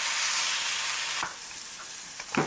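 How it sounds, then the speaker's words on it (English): Loud, hissing sizzle of mushroom steaks frying in a hot pan, with a brief clatter and a few soft knocks near the end. "The more it sizzles up, the more well done it's going to be."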